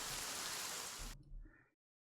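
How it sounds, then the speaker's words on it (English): Rain falls in the video game Nikke, a steady, soft, broadband patter that cuts off abruptly after about a second and leaves only a faint tail before silence. "Rain falls from the sky."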